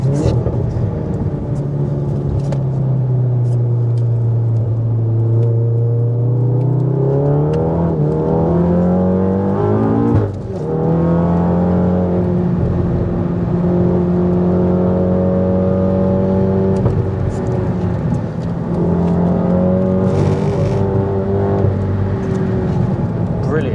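A Volkswagen MK7 Golf R track car engine roars and revs up and down through the gears on a race track, loud and close, with a brief dip as it brakes hard into a corner before accelerating again.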